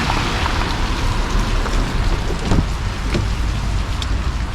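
Heavy rain pours steadily onto a vehicle in the Finnish countryside, a loud dense hiss of drops drumming without pause.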